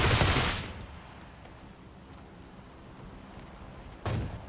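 Two sharp bursts of gunfire in PUBG Lite, a loud crack at the start and a fainter one near the end, with quiet background between them and no talking.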